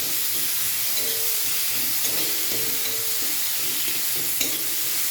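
Onion frying lightly in a pan with dried and green chillies, a soft continuous sizzle with occasional stirring scrapes and clinks, close and moderately quiet, no talking.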